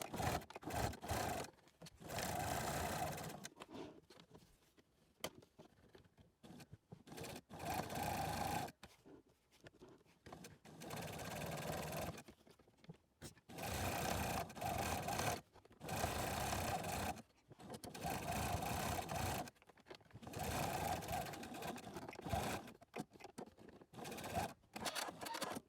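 Sewing machine stitching a fabric face mask, running in several steady buzzing bursts of a few seconds each, with short pauses between them as the stitching is reinforced, fairly quiet and with no voices.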